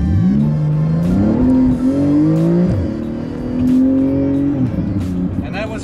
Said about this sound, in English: You always enjoy stepping on the gas in this car